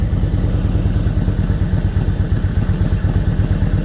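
A 2001 Harley-Davidson Road King with a Mikuni carburetor idles steadily up close, its loud, even low-pitched pulsing thumps repeating throughout with a slight mechanical clatter on top.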